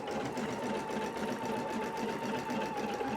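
An embroidery sewing machine stitches the second colour of a design with a steady, continuous mechanical whir and a fast, even stitching rhythm, close and unbroken with no talk.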